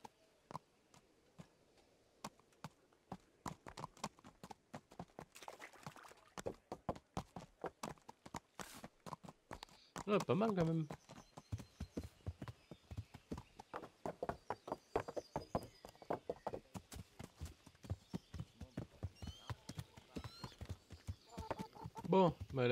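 Horse hooves clip-clop in the medieval video game Kingdom Come: Deliverance, a steady rhythmic beat of close, crisp footfalls running throughout while someone talks in French over them.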